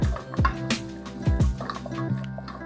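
Walnuts stirred in a sticky sugar sauce in a hot pan, giving close, wet bubbling squelches and scraping clicks in an irregular rhythm.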